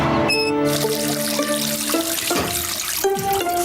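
A water tap runs in a cartoon bathroom before a bath, a steady loud splashing flow mixed with tonal musical notes that shift pitch in steps, no voices over it.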